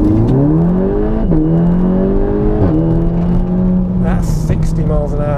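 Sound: tuned 395 hp VW Golf R Mk7 launch acceleration

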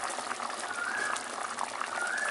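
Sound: liquid boiling in a pot for stingray fish curry

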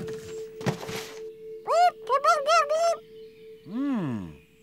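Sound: bird calling in a cartoon

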